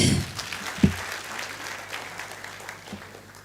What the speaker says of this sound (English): Let's give a clap to Odote.